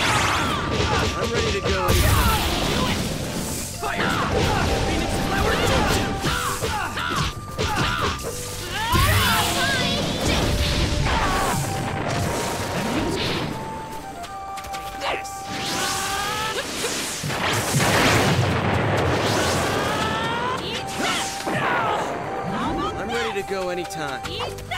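Phoenix Flower fire jutsu from Naruto Shippuden: Ultimate Ninja Storm Trilogy: repeated whooshing bursts and crashing impacts of fireballs, loud and dense, under energetic in-game shouting voices and music.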